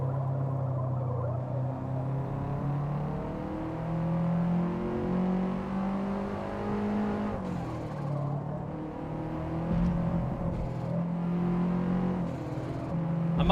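Race car engine in the Forza Motorsport racing game, revving steadily through gear changes and braking while lapping a circuit, loud and continuous with no voices.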